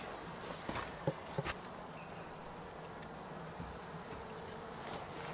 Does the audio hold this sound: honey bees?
yes